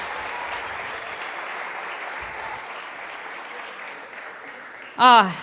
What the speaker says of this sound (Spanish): Podemos dar un aplauso.